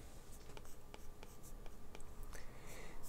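Stylus writing on an iPad fitted with a paper-like screen protector, quiet close scratchy strokes and light taps in quick irregular succession.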